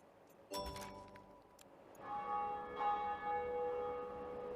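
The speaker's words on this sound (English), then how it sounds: "Ah, the church bells." Church bells toll in the railway-management video game Rail Route, with one bright strike followed by two more, each ringing out in long, sustained metallic tones that overlap and linger.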